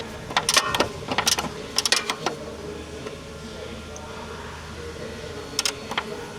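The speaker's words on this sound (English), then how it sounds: "I'm tying up these bolts first. We got a ratchet in there." Ratchet working on bolts while fitting coilovers to a Lexus IS200, a run of close, quick clicking bursts repeating in short spells, with a low background hum and some talk mixed in.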